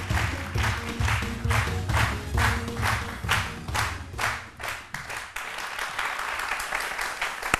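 A television studio audience on a midday talk show applauds a guest, with close, loud, rhythmic clapping that gradually thins into a looser, softer patter toward the end.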